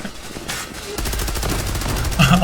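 Bursts of rapid automatic gunfire from the online shooter game Zula, loud and close, starting with a short burst and then a dense continuous rattle that grows heavier near the end.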